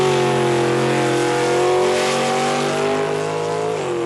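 A loud drag racing car engine roars at high revs during a 1994 drag race, with a strong harmonic whine, then briefly drops in pitch near the end as the driver backs off the throttle.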